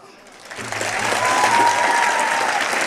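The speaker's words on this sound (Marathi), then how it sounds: "अशाच टाळ्या वाजल्या त्यावेळी" An audience breaks into applause that swells quickly from quiet into sustained, dense clapping, with some crowd voices mixed in.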